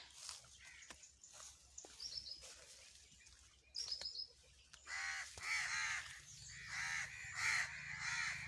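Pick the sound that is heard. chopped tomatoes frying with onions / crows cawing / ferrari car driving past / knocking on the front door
crows cawing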